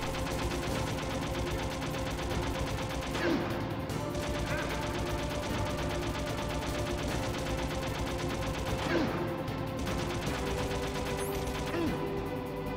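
Continuous rattling gunfire from the video game Metal Gear Solid fills the scene at a steady level, with occasional sharper cracks standing out from the din.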